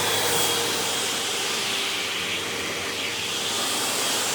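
A Hoover Elite Rewind Plus UH71200 upright vacuum pulls air through its hose tool attachment with a loud, steady rushing whoosh that holds constant, close to the listener.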